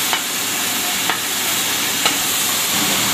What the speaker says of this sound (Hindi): अब इसमें हम सब्जियां डाल रहे हैं जो हमने फ्राई करके रखी हैं।